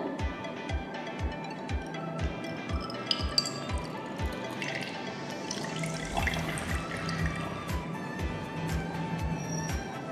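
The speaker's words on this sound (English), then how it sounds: "I will collect the overflowing water. Now I am immersing the body in the water." Water trickles and drips steadily with a faint glassy clink now and then, a continuous small splashing close by, as water overflows from a container while a solid object is immersed in it.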